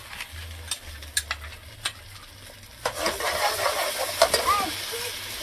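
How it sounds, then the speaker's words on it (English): Onion is tipped into a hot pot for shrimp pasta and bursts into a steady, close sizzle, preceded by a few light stirring taps and clinks. "So now I'm going to add some onion to my pot"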